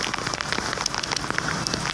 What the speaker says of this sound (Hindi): लाहौर, चिनियोट, चकवाल और जहलम समेत पंजाब के मुख्तलिफ शहरों में भी मूसलाधार बारिशें।